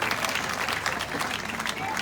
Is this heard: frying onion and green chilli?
no